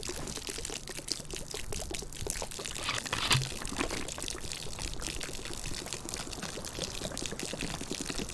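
A water canteen being emptied in the DayZ video game gives a continuous pouring, trickling stream of liquid that runs evenly for about eight seconds, alone and fairly close.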